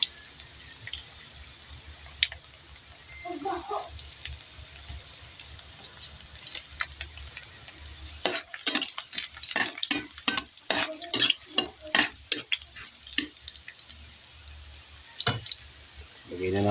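Garlic sautéing in a pan, with scattered stirring clatter and a low background hiss that turn into a burst of rapid, close scraping and tapping from the spatula partway through.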